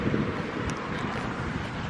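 Wind gusting steadily across an open meadow on a warm day, a constant broadband rush with buffeting against the microphone, no voices.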